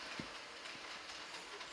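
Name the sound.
model railway commuter train running on layout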